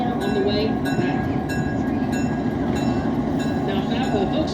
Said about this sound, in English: That'll allow the locomotive back onto track 1. It will then reverse into our train.